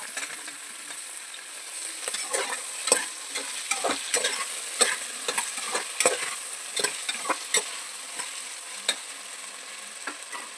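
Onion, carrot and potato frying in a pot for vegetable biryani, a continuous sizzle broken by repeated sharp scrapes and taps of a stirring spoon, close and without talk.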